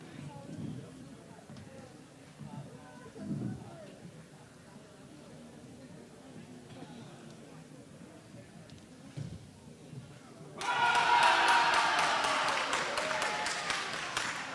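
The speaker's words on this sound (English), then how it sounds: "the claps that we are hearing from the match of Rom City" Spectators at a neighbouring court of a boccia tournament burst into loud, sustained clapping after a stretch of quiet commentary talk, the applause carrying on to the end.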